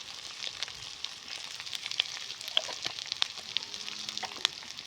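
Onion and garlic fry in oil in a pan, a close, steady sizzle with crackling pops and small spatters throughout; no talking.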